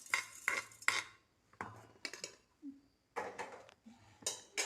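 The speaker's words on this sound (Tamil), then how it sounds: "1 ஸ்பூன் கடுகு வறுத்துட்டு அதை நம்ம மிக்ஸி ஜாரில் கொட்டிக்கிறேன்" Small dry roasted mustard and fenugreek seeds rattle and patter into a hard mixer jar in several short bursts, with brief pauses between pours, fairly close and quiet.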